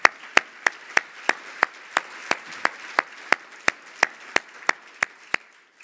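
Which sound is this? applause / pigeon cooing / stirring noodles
applause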